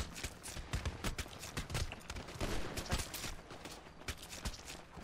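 Rapid gunfire in the video game GTA: dense, ragged bursts of shots crackling continuously for several seconds at steady loudness, with no talking.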